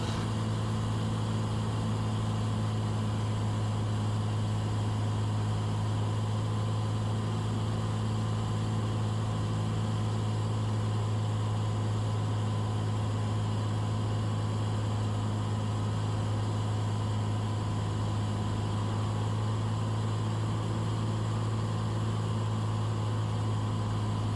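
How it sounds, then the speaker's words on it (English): A Cessna 182 single-engine propeller plane on approach with power reduced to slow down, its engine giving a steady low drone with a constant hum and broadband cockpit noise throughout, no speech. "you've heard me power back. We're getting the airplane slowed up."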